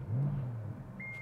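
A 2018 Porsche Panamera Sport Turismo engine fires up with a short, loud low rumble that swells quickly and then settles into a steady idle, heard close with no talking.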